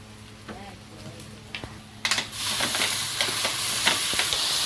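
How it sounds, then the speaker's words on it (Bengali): Fried potatoes sit quietly in a pan until water is poured in, setting off a sudden loud hissing sizzle that keeps on steadily, with some scraping and voices at the start. "আলুটা লাল লাল ভাজা হয়ে গেছে এবার এর মধ্যে জল দিয়ে দেবো"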